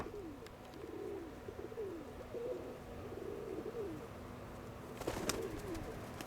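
Pigeons cooing in soft repeated rolling phrases at moderate distance, a continuous gentle murmur with light background noise and a brief clatter near the end.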